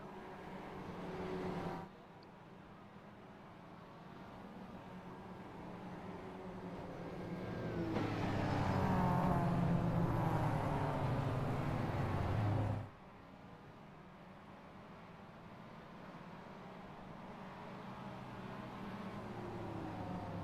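Race cars on track at Road America in a challenge series event, engine noise droning steadily and swelling louder for several seconds as cars pass, then dropping back to a distant hum.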